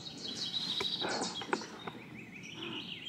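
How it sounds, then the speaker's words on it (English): Faint birds chirp and tweet outdoors, scattered short calls and a few sharp ticks over a quiet, distant background. "if you're hearing those birds and um, outside noises, this is what you're hearing"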